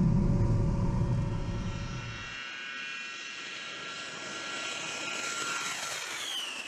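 An A-10 military jet lands and takes off on a civilian highway in Michigan's Upper Peninsula, a loud, deep engine roar that fades into a high turbine whine as it passes at close range, with no voices.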